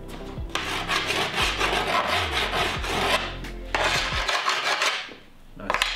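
A snowboard edge near the tip is dulled by rubbing a tool along it, giving continuous close rasping and scraping strokes with steady rhythm and slight pauses between passes, no voices.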